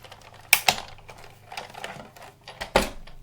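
A Big Shot die-cutting machine cranks a framelit die sandwiched between cutting pads, making a few sharp plastic clacks and softer ratcheting clicks spread irregularly across a few seconds.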